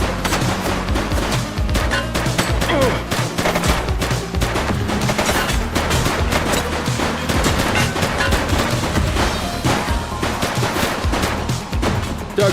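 Rapid, continuous gunfire from a suspect in the police video game The Precinct, dense automatic bursts and shots hammering loudly and almost without pause for over twelve seconds.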